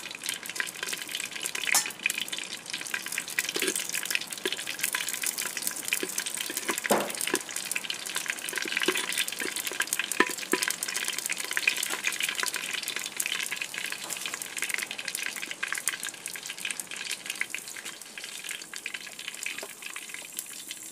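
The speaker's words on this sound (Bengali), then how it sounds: "তেল দিয়ে দিয়েছি, এখন তেজপাতা, শুকনো লঙ্কা দেওয়া হলো।" Oil with bay leaf and dried chili frying in a pan, a continuous crackling sizzle with faint spatters and occasional stirring knocks throughout.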